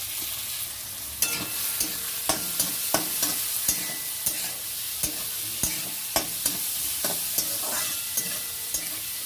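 Onion frying in a pan alongside already-fried eggs, with a steady sizzle and repeated sharp scraping clicks of stirring at an irregular pace, close and moderately loud, no voices.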